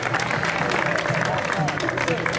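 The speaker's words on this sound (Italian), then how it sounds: "Quindi un applauso a Vincenzo" Audience applause for a race driver at the Speed Down Cup awards in Sersale, a dense steady wash of clapping with voices mixed in throughout.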